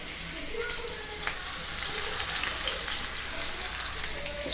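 Onion and ginger-garlic paste frying in a pan, a steady close sizzle and crackle with faint stirring, continuous throughout without speech.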